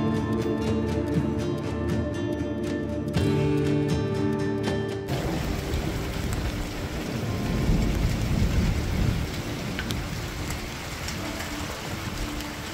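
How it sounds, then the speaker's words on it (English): Heavy desert thunderstorm with steady rain pouring down and rolling thunder, loud and continuous throughout, with a broadband wash of rain dominating the second half and no talking. "So we got a little bit of a storm"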